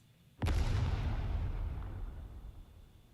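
A grenade blast in the video game Arknights hits hard with a sudden loud boom, then a long rumbling roar trails off slowly over the next few seconds, with no voices heard.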